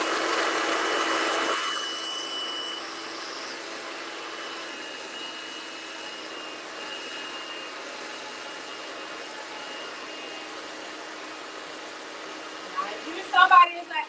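A hair dryer blows steadily as a hair unit is dry molded, a constant airy hiss that drops in intensity after the first seconds and runs on under a voice, ending in a few handling knocks.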